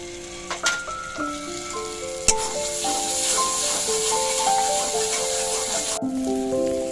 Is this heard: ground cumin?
yes